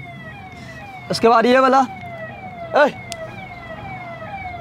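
An ambulance siren passes outside, its faint, repeated falling wail running steadily in the background while someone speaks in short bursts.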